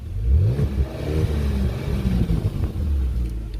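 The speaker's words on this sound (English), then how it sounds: "Let's give it a little exhaust." A 2022 Genesis G70's engine in Sport Plus mode revs and rumbles with a deep, throaty exhaust note, rising and settling at close range with no talking.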